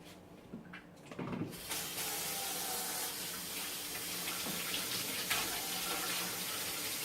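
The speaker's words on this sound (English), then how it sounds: "Start by washing your hands." Hands being washed under a running tap, a short fumbling start and then a steady, full rush of water pouring into a sink that continues without talk.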